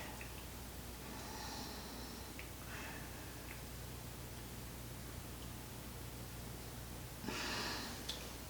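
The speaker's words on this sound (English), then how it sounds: "Let's take a deep breath." A congregation at a spiritual living center takes a slow deep breath together, faint airy breaths rising and falling three times over a low steady room hum.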